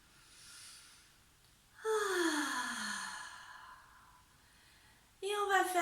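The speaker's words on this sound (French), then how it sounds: "On inspire, on expire." Slow, deep breaths in and out during a morning sophrology exercise, a soft inhale followed by a long, audible sighing exhale and another breath starting, close and calm.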